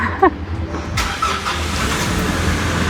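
A car engine idles steadily while warming up before driving, a constant close low rumble with a few faint higher sounds near the start.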